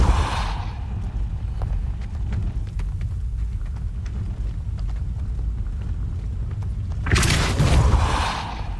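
A Depulso spell is cast in Hogwarts Legacy. After a low, windy ambience, a sudden bright whooshing burst with a deep thump rings out near the end and fades.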